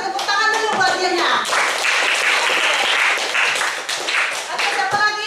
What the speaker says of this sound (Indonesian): Tepuk tangan dulu buat Mirna